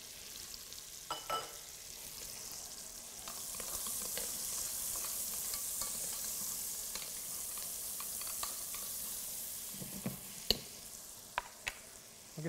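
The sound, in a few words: onions frying and being stirred in rendered fat in a pot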